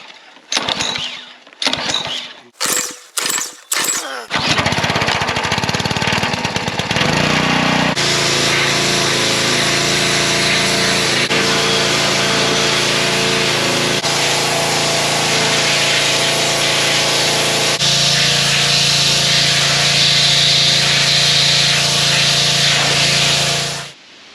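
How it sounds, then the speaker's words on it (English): A pressure washer engine pulls over with several sharp cranking bursts, then catches and runs at a loud, steady roar with a hissing spray, changing load partway through. "Now the big question with this pressure washer, will it start?"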